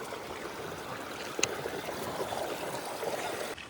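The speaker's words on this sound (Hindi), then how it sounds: "पानी जा रहा है नीचे, और इधर है एक नाला" Floodwater from heavy rain rushes down into a drain in a waterlogged village field, a continuous broad rushing and gurgling flow, steady and fairly close, with no voices.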